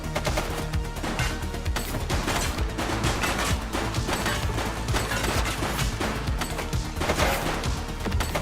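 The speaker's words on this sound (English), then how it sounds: "Shots fired!" Gunfire from the police video game The Precinct: a dense, continuous fusillade of rapid shots and crashing impacts, loud and close, with no talking.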